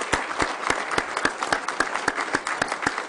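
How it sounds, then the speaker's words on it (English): An evening audience applauds a student string orchestra at a midterm address, with a steady crowd of clapping and regular louder claps from someone close by. "let's give an extra round of applause to our string orchestra for coming up this evening"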